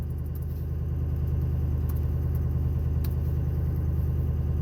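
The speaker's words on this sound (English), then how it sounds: "This is an example of the fan clutch working properly." A 6.0 Powerstroke diesel runs close by with a steady, dense rumble as its fan clutch spins, the engine drone and fan roar holding even throughout with a few light ticks on top.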